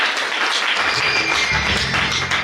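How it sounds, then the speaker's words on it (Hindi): Loud, dense applause from an audience gathered for a New Year celebration at a retreat centre in Bhagwanpur, Bihar, a steady close wash of clapping throughout. "तो एक बार जोरदार तालियों से हम सुशील भाई जी को आमंत्रित करेंगे।"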